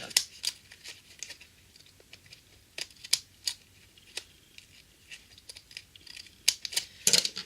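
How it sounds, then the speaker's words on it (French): Small scissors snip through paper while a gift bag is being made, a series of crisp, close cuts spaced irregularly, with a quick cluster of snips near the end. "Ah, mais c'est parce que j'ai des petits ciseaux."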